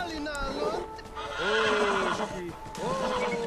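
Horses in the video game Beyond Two Souls neigh and whinny, three loud close calls with falling pitch, hooves clopping faintly underneath.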